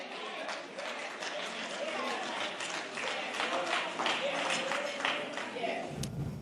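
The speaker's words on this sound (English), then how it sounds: "clearly getting some reaction from the crowd there" A live crowd at a televised special-edition forum breaks into sustained applause, dense and fairly close clapping with scattered cheers and voices mixed in, holding steady for several seconds before cutting off abruptly near the end.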